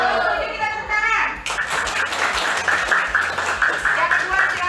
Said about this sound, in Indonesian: Setuju, kita tepuk tangan.